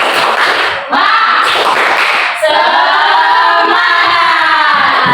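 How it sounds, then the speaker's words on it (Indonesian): A school class claps together in a rhythmic spirit clap, a dense burst of hands with brief pauses between phrases, loud and close, with voices chanting along. "kita tepuk semangat dulu dong"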